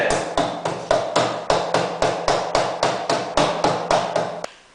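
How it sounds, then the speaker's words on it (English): A hammer strikes a screwdriver in a steady run of light metallic taps, about three per second, close and fairly loud, stopping near the end, while replacing snowmobile track slides. "So just take a hammer and real lightly keep tapping it in."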